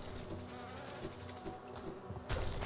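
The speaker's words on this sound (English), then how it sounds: "Stupid little bee." Buzzing of a small bee enemy in Hollow Knight, a steady insect drone running throughout and swelling louder near the end, with no talk over it.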